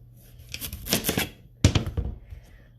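Knife chopping the ends off a butternut squash on a board, two quick bursts of crisp cutting and knocking taps separated by a short pause, close and clear.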